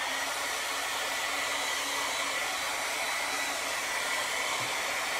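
A hair dryer blows steadily on chalk paste spread over a wooden frame, a constant close whooshing roar with no break from start to finish.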